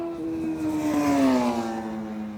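A superbike on an open trackday at the Buddh International Circuit screams past, its high engine whine swelling and then dropping in pitch as it goes by at a moderate distance.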